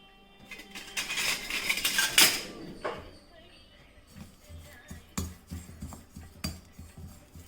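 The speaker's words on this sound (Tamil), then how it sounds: "ஃப்ளாக் சீட் ரொம்ப வறுக்கணும்னு அவசியம் இல்லை சும்மா லைட்டாக" Flax seeds lightly dry-roasted in a kadai, with a burst of rattling and scraping early on, then scattered clinks and soft stirring scrapes of a utensil against the metal pan.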